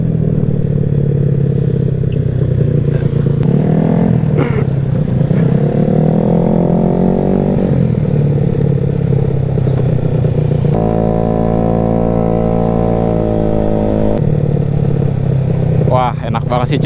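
A Vespa scooter, just collected from the repair shop, runs with a loud close engine drone that rises and falls as it revs and accelerates, carrying on steadily throughout with brief rattles.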